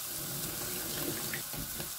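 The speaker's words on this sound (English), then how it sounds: "Now we'll add the cup of water in," A cup of water pours into a hot pan of spices for kofta pilau, a short continuous gushing splash with bubbling steam.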